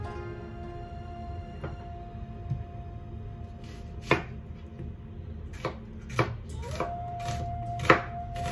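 Knife chopping herbs on a cutting board for a Moroccan Ramadan breakfast spread: a few sharp, separate chops at first, then quicker knocks toward the end, over a steady low hum with no talk.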